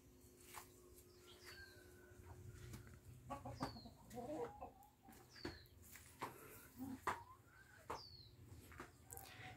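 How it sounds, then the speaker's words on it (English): Backyard chickens cluck in a series of short, repeated calls over a steady low hum, with occasional sharper squawks rising above the murmur of the flock throughout. "Here we have the backyard with the chickens."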